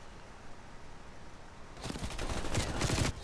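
Halfway through, an LC10 submachine gun in Call of Duty Cold War breaks into a rapid burst of automatic fire after a quiet lead-in, loud and continuous to the end.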